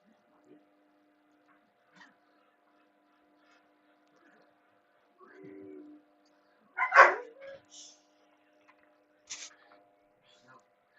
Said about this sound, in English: that is my dog in the other room barking at my son